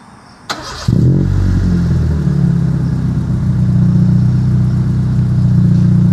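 A Honda City VTEC with a stage 1 tuned exhaust cranks briefly and fires up, then settles into a loud, deep, steady idle rumble close by.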